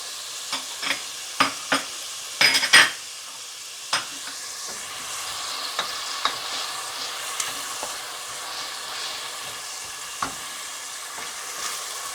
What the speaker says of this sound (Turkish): Havuçlarımız da soğanla bir yumuşasın.